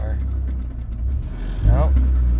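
Exhaust rumble from a 1996 Acura Integra race car, a steady low idle that swells louder near the end, close by.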